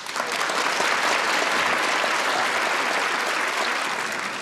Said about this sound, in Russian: А что вы хлопаете?